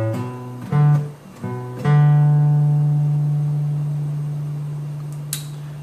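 A guitar slowly plays a riff: a few plucked notes with a hammer-on, then one long sustained low note that rings out and fades, close and unaccompanied.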